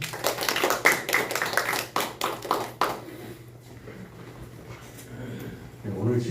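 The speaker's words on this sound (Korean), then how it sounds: "이 땅에서 또한 복을 주신 우리 하나님 감사의 박수 올려드리겠습니다" A church congregation claps in thanks during a Korean worship service sermon on Psalm 51, a few seconds of scattered, moderately loud clapping that stops abruptly, followed by quiet room tone and a faint voice.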